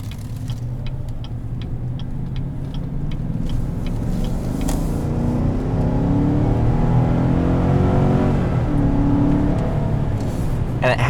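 A 2017 Chevrolet Silverado 1500's 5.3-liter V8 rumbles steadily at close range, its deep low drone swelling into a rev partway through, with faint voices murmuring underneath.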